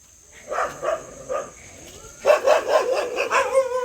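Several dogs bark repeatedly at a flying drone, first a few spaced barks, then a rapid, louder overlapping chorus, with the drone's high steady whine running throughout.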